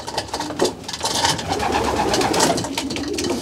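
Female racing pigeons cooing steadily inside a loft, several birds overlapping in a continuous soft murmur with occasional louder coos, close by.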